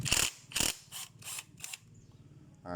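Ratchet wrench loosening a nut on a Honda Wave 110i motorcycle with a broken kick-start shaft: five loud, rapid ratcheting bursts in a steady rhythm, close up, then a quieter stretch of faint mechanical clicks.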